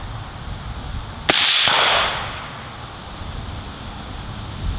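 A 6.8 SPC hunting rifle fires a single loud, sharp shot outdoors. Its crack is followed by a rolling, fading echo, with wind noise before and after.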